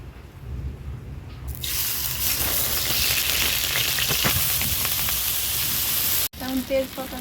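Ghee sizzles loudly in a pot as pulao rice cooking begins, a dense continuous frying hiss that starts after a quieter moment and cuts off abruptly near the end, with no talk over it.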